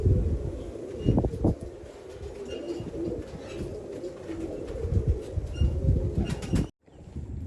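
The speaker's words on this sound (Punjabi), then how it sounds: "ਆਹ ਆਪਣਾ ਵੱਡਾ ਕਬੂਤਰ" Low, throaty coos of a large red pigeon repeat close by over a soft background rumble, ending in a brief silence.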